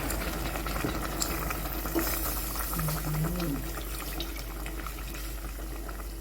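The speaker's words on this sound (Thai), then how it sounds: "อ่านี่ใกล้วางแล้วเราก็จะใส่ กะทิลงไปเลยค่ะ" Coconut milk poured into a simmering Thai curry of straw mushrooms and banana blossom makes a steady, close liquid rush and gentle bubbling that continues evenly throughout.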